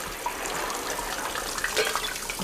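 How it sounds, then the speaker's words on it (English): Water rushes steadily through thawed household pipes, a continuous hissing, splashing flow heard close and alone throughout. "I think the water's starting to flow."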